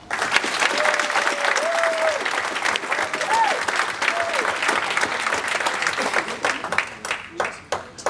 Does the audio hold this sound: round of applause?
yes